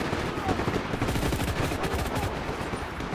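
Covering gunfire in the Just Cause 3 video game, rapid bursts of automatic fire rattling loudly and continuously, with occasional voices in the mix.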